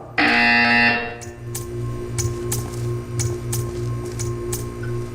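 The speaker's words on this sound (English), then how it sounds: "You will hear a buzzer." A loud electronic buzzer in the video game Portal 2 blares for about a second, a harsh tone over steady electrical hum that then gives way to a low pulsing drone and faint ticking.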